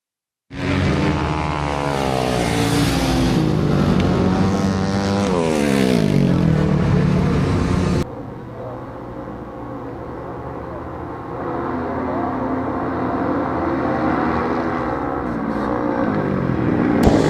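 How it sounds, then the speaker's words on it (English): Flat track motorcycle racing at the Buckeye Nationals, a 300 two-stroke against a Honda 450: a loud, close engine roar sweeps past with falling pitch, then a steadier distant drone continues under a race announcer's voice. "Snyder on the 300 gas two-stroke versus Will on the Honda 450."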